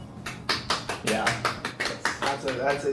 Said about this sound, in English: solid golf clap